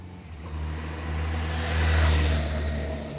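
Motorbike approaching and passing close by a road junction, its engine rising in loudness to a near peak around the middle before easing off, heard from a car sitting at the junction.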